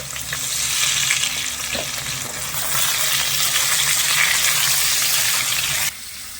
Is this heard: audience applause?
no